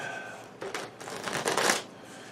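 Onirim game cards are shuffled up close in a quick riffling burst that swells and then fades away, with no voices.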